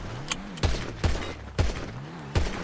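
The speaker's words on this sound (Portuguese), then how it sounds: "Dá um monte de tiro aqui." Gunshots in the video game GTA RP, several sharp single reports spaced irregularly, about five in a few seconds, fairly close and punchy, with no talk.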